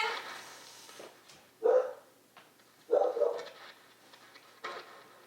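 A dog barks a couple of times at a distance, separated by pauses, with faint softer yips and background noise around the barks.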